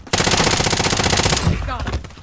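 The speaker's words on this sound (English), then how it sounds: "Taking fire over here!" Rapid automatic gunfire in Warzone, one loud, close, sustained burst of evenly spaced shots lasting over a second, then fading into softer ambient noise.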